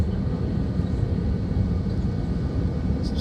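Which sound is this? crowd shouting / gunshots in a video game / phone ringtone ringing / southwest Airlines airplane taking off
southwest Airlines airplane taking off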